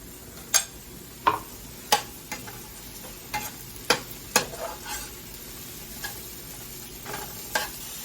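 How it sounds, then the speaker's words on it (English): Mushrooms and onions fry in a pan for beef stew, with a steady soft sizzle under close, sharp utensil clacks and scrapes against the pan at irregular intervals, and no voices. "I'm gonna go ahead and add in my mushrooms."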